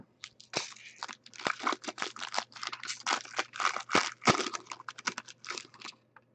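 2014 Bowman Draft baseball card packs being torn open, with rapid crinkling foil wrappers and quick tearing and shuffling in dense bursts, close and busy without pause.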